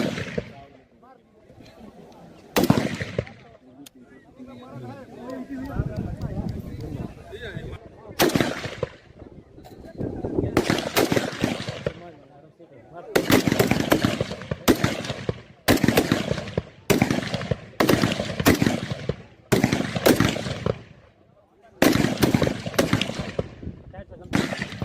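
Repeated gunfire at an annual police firing practice range, loud sharp reports coming singly and in rapid bursts, with talk and background noise between the volleys.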